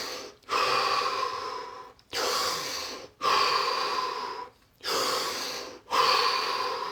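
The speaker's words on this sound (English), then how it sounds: "Make that 5 deep breaths." Five deep breaths taken during a guided stillness session, each a long, loud, airy inhale or exhale lasting over a second, separated by brief pauses, close to the microphone with no talking.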